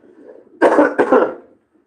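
Two harsh, loud coughs in quick succession, close to the mic, over a faint low background murmur, then quiet.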